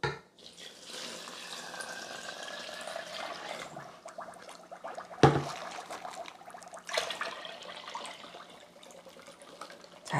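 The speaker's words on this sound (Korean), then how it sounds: "이렇게 물에 1시간 동안 담궈 놨잖아요. 이거를 이제 여기에다 부어주면 됩니다" Soaked water poured into a tomato gochujang mixture, a steady splashing, trickling pour that runs continuously up close, with a brief heavier splash midway and no talking.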